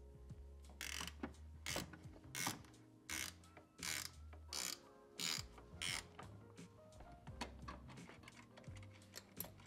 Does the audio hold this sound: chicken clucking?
no